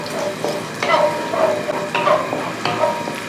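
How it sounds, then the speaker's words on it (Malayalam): Ginger, garlic and a few green chillies sizzle in a pan for a beef dish, with several bursts of stirring and scraping over a steady close frying hiss. "ഇത് എല്ലാം കൂടെ ഒന്ന് മൂപ്പിച്ചെടുക്കും."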